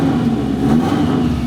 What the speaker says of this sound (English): The throttle and the turbo noises?